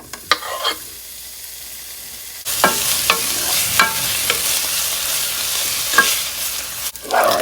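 Bacon slices drop into a hot pot and start sizzling loudly and steadily, with occasional scrapes and knocks of a utensil stirring them.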